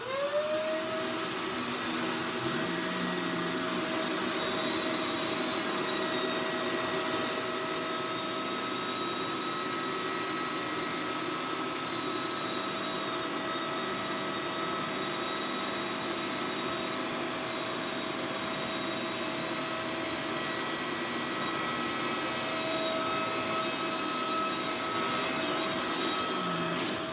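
A Shark Powered Lift Away Deluxe vacuum cleaner runs steadily throughout, a loud, constant motor whine with a high tonal hum and airflow rush, no voices.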